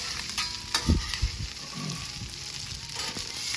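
Hot pastrami sizzling and frying on a flat griddle for deli-style Reuben and Rachel sandwiches, a steady crackling hiss with a few sharp scraping clanks near the start as the meat is slid across.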